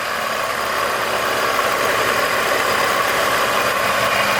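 A heavy supercharged engine in a 2003 Toyota Tacoma with a TRD supercharger idles steadily and loudly up close in a shop with the hood open, a dense continuous rumble with a throaty mechanical whine and no voices.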